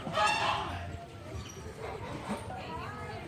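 Geese honking near a backyard chicken flock in August, a few calls rising over a person talking nearby.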